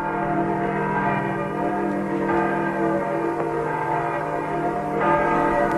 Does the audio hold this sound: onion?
no